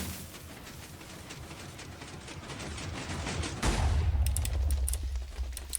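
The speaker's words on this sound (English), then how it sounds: "Fires the TNT forwards, holds it there, and shoots it forwards and blows it up" Minecraft tunnel bore machine firing TNT forward and blowing it up in a mined tunnel, video game: dense crackling bursts of blasts rolling on continuously, swelling into a louder, deeper explosion near the end.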